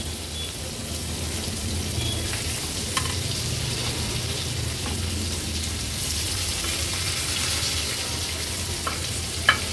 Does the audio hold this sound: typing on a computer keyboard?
no